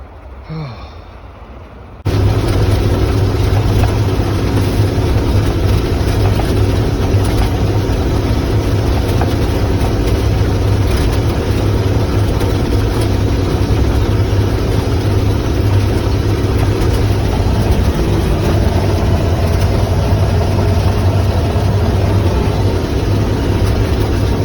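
An old truck-mounted crane's diesel engine runs steadily at a loud, constant drone after a brief quiet start, heard close up with no talk over it.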